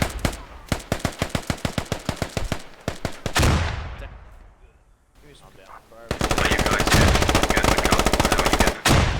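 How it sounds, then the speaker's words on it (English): Rapid automatic gunfire in a multiplayer shooter match, loud bursts of evenly spaced shots, a brief lull with an explosion-like rumble, then another sustained burst. "taking some more shots down the hallway"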